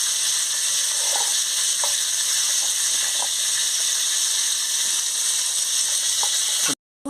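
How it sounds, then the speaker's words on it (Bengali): Whole bata fish fry in hot oil in a kadai, giving a loud, constant sizzling hiss with occasional small crackles and pops throughout. "এবারে মাছটা কড়াইতে দিয়ে দিচ্ছি এক এক করে আমি মাছগুলো ভেজে নিচ্ছি"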